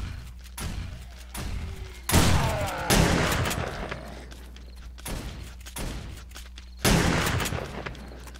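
A shotgun turret blasts away at a zombie horde in the 7 Days to Die video game, firing repeated heavy booming shots at irregular intervals over a constant low background rumble.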